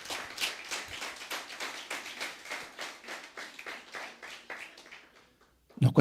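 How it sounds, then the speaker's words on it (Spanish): Congregation clapping during a Christian sermon, a rhythmic run of distinct hand claps in steady beats that thins out and fades to quiet, with a voice resuming at the end. "Den un aplauso al que vive, al que reina."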